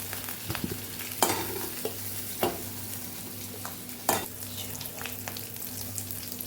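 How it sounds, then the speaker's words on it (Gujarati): Potato pieces sauté in oil for a dry potato dish. A soft, steady sizzle runs throughout, with a few spoon scrapes and knocks of stirring, all fairly quiet and close. "તો તેલમાં આપણે સરસ સાતડી લીધા છે બટેકાને"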